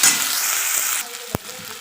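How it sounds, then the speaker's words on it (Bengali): Onions fry in oil, a strong close hiss that drops to a softer sizzle midway, with one sharp knock of a spoon against the pan shortly after. "পেঁয়াজটাকে ভালো করে লাল লাল করে ভেজে নেব।"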